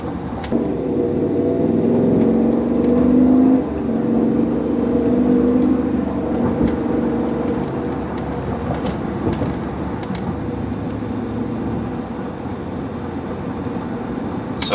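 A 2023 GMC Yukon XL Denali Ultimate on the road, giving a steady, fairly loud low rumble of engine and tyre noise that continues throughout, with a few light clicks and knocks and no talking.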